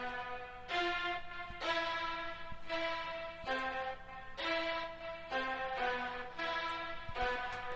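Strings in the second half of a trap remix drop, sustained bowed chords moving in short repeated phrases of about a second each, fairly quiet and heard alone without talking.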